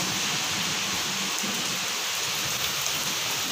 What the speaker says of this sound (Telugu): మరుసటి రోజు ఫుల్గా వర్షం పడుతుంది మాకు బయట